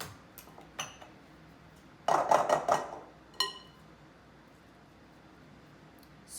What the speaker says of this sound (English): Scraping everything off my beaters.